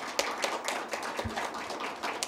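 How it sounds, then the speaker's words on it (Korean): Steady applause from an indoor crowd at an award presentation during a district office staff meeting, many hands clapping continuously at moderate volume. "큰 박수로 축하해 주시기 바랍니다."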